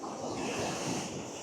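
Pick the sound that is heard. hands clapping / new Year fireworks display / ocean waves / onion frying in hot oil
ocean waves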